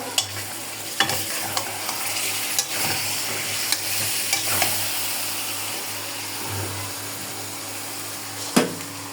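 Pieces of rohu fish fry in a pan with potatoes, a steady close sizzle broken by scattered scrapes and knocks of a spatula stirring them, with a sharper clatter near the end.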